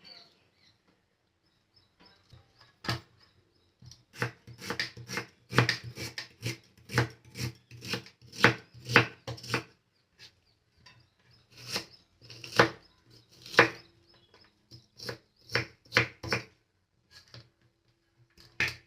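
Onions are chopped with a knife on a board in a series of crisp, close, rhythmic cuts, coming in bursts separated by short pauses.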